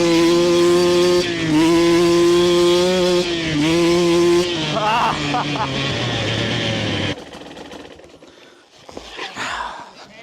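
A two-stroke 600 motorcycle engine revs loud and close on a home lawn, rising and falling through several throttle pulls before the roar cuts off and fades into quieter rumble and background noise.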